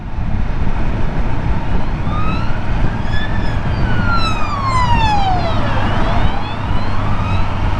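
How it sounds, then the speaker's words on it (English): An ambulance siren passes in traffic, its wail sweeping up and down loudly and dropping in pitch as it goes by, over a steady road rumble. "Ambulance behind us, Raz."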